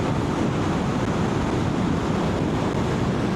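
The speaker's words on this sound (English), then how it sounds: "I'm getting quite a lot of wind blast." Steady, loud wind roar buffeting the microphone on a Moto Guzzi V7 Special motorcycle at 70 mph without a screen, a continuous broadband rush of open air, with no talking.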